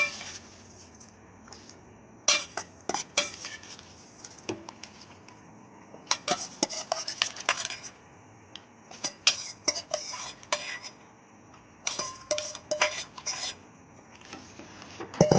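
Rice and split moong dal being stirred in a pot of boiling water for sakkarai pongal, heard as irregular metal-on-metal scrapes and clinks of a spoon against the pot in quick clusters over a low simmering background.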